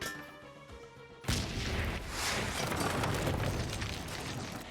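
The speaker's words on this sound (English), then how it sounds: "you can also just throw the propane right in front of them and detonate it with a firework" A propane canister detonated by a firework in the Hitman video game: after quiet tonal music, a single sudden loud blast erupts, followed by a broad, rumbling crackle that slowly decays over several seconds.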